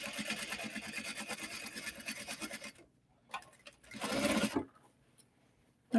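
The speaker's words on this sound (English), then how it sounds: "Clip those threads that have caught on the sewing foot" A sewing machine runs steadily stitching a seam in kimono fabric, close and rapid, then stops; after a pause comes a short second burst of stitching, followed by quiet.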